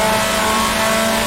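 A 1966 Formula 2 race car engine in Grand Prix Legends holds flat out in third gear, a loud, steady, buzzing drone at constant pitch through the short stretch with no voices.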